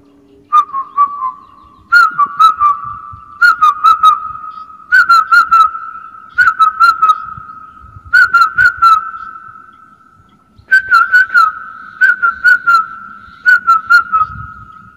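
A boy whistles an imitation of an evening bird call: clear, close, steady tones broken by bursts of quick chirping trills, repeated in regular phrases with short pauses between them.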